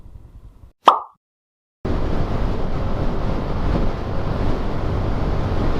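After a brief plop and a moment of silence, strong wind buffets the microphone with a steady, rumbling roar that continues to the end, outdoors on a Honda XRM motorcycle ride.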